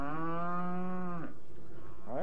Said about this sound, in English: there goes a B-flat cow now